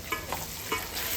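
Mini idlis get tossed into hot oil in a pan, giving a quiet, brief sizzle with a few soft stirring scrapes.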